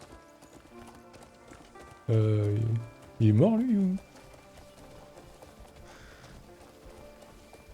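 Horse in the video game Crimson Desert gives two loud, close neighs in quick succession over soft ambient game sound, with someone speaking quietly in French.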